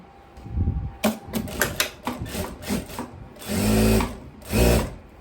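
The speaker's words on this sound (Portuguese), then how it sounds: "Vou fazendo uma costura de 1 centímetro aqui." A sewing machine runs a 1 cm seam joining two fabric pieces of a long dress, heard in short bursts of rapid mechanical stitching followed by two longer, steadier runs, close and fairly loud with no talking.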